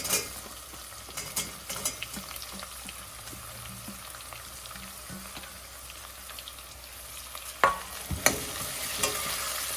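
Chopped onion and green chilies fry in a pan with ginger and garlic, a low steady sizzle under intermittent stirring scrapes and a couple of sharper knocks near the end.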